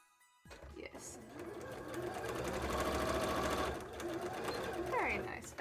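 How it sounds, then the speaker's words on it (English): Sewing machine stitching a fabric cosplay tail runs in a steady, fast, close whirring stitch for several seconds, starting after a brief pause and ending with a short rise, while a person talks quietly. "And then we can just sew these two up at the end."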